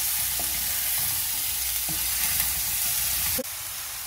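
Onions and green chillies sizzle steadily in a pan with a constant loud frying hiss, broken by a few light scrapes of stirring.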